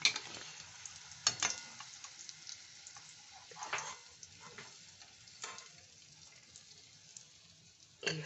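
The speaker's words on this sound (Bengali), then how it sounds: "এইভাবে আমি ভেজে তুলে নেব সব।" Egg kabiraji cutlets frying in hot oil give a steady low sizzle with scattered crackles and a few louder pops, close by, with no talking.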